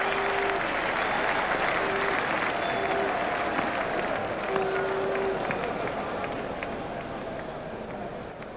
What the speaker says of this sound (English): The crowd were brought to their feet by that shot.